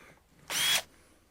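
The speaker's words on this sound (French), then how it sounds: "je perce un trou entre les deux cloisons" Power drill boring a hole between two partition walls, heard as one short, loud whirring burst of about a third of a second, close by and alone in a quiet room.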